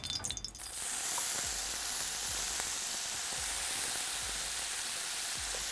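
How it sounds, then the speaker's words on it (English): Oil heating in a saute pan for mutton, a brief clatter giving way to a steady, fairly quiet hiss of sizzling with faint crackles, no speech. "add 3 tablespoons of oil in it. Wait for that to heat up and we'll transfer mutton in there."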